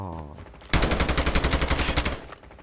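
Rapid automatic gunfire in the Call of Duty Mobile video game breaks in suddenly after a quieter lead-in, a loud sustained burst of evenly spaced shots lasting about two seconds.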